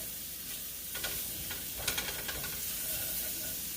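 Vegetables seasoned with salt, black pepper and garlic powder cook in a pan for steak quesadillas, a soft, even sizzle with a few light utensil scrapes clustered near the middle.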